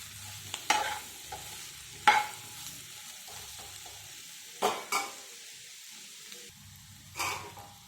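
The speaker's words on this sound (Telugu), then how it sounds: "ఇది ఒకసారి కలుపుకుందామండి" Brinjal and potato pieces are stirred in a frying pan, giving soft background sizzling broken by a few distinct scraping and clattering bursts of the spatula against the pan.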